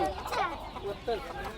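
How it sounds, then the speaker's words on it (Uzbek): Rooster at a poultry market, giving short clucking calls close by amid chatter of people talking around the stalls. "Bu jibr xo'rozingiz"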